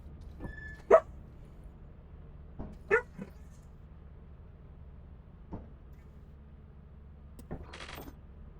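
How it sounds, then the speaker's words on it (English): A dog barks in a few short, separated bursts with a whimper or yip between them, fairly close in an otherwise quiet room over a low steady hum. "Dog's going crazy now."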